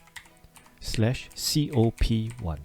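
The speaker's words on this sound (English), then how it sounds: "Start by clicking on your browser and typing in this address" Computer keyboard typing out a web address in a browser, with faint, quick key clicks running beneath a person speaking for most of the clip.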